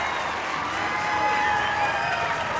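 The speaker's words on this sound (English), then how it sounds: "the crowd loving this" Stadium crowd at the 2013 European Athletics Team Championships in Dublin, a steady wash of applause and cheering filling the air with no break, dense and moderately loud throughout.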